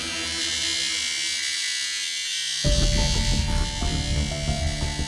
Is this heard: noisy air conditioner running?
yes